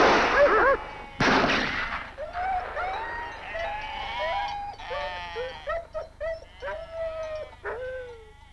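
Sheep bleat over and over, many animals at once, loud at first and then a steady run of wavering cries, as dogs are set on the flock at a landowner's pasture.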